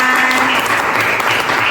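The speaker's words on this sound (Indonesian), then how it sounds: "Oke, tepuk tangan." Classroom participants applaud after a group presentation during a teacher training session; steady, dense clapping from many people, close and loud throughout the short stretch.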